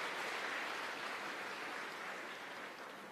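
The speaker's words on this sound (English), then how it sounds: "Why are you clapping?" An audience applauding in a hall at IIT Madras, a dense and steady wash of many hands clapping that fades slightly toward the end.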